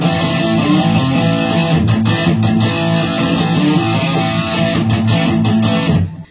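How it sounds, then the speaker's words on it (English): A dense, distorted guitar-like wash with quick rhythmic chops plays loud and close without pause, cutting off abruptly at the end. "a little bit of up strumming, and we're definitely doing some palm muting there"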